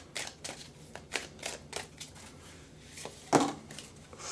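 Oracle cards from a Whispering Woods deck being shuffled in a quiet room: a series of short papery riffles in irregular rhythm, close and soft, ending with one sharper, louder snap of cards.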